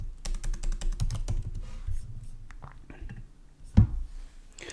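Rapid, steady keystrokes on a computer keyboard while writing Kotlin coroutine code, a close, dense run of clicks that thins out, then one louder thump near the end.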